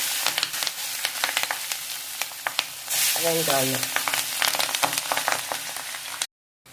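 Onions, fennel seeds and green chillies sautéing in oil after mustard seeds and urad dal, giving a loud continuous sizzle with frequent sharp scraping stirs up close and a brief voice in the middle before it cuts off.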